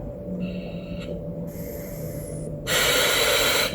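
Firefighter breathing through an SCBA breathing apparatus, a faint airy inhale hiss followed by a louder, rushing exhale burst from the mask valve, close and with no talk.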